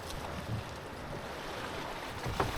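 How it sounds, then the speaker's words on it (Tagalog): Faint wind and water wash around a small boat at sea in big waves, sloshing softly in the distance, with a couple of small splashes near the end. "Ang lalaki ng alon."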